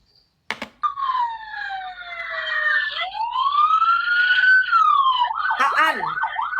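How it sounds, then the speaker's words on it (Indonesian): An ambulance siren wails in long rising and falling tones, loud and near, after a sharp click at the start, with a voice breaking in at the end. "Jangan sampai ku siapkan ambulans nih."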